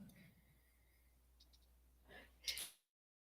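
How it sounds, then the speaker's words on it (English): A single sharp sneeze bursts out near the end, close and fairly loud against an otherwise quiet indoor room with faint background hum. "sorry, I had to sneeze."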